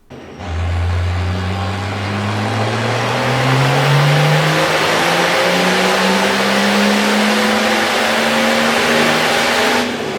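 A stock BMW 325 TDS diesel engine with only an ECU tune revs steadily on a dyno, its pitch climbing through a long sustained pull and holding loud before cutting off abruptly.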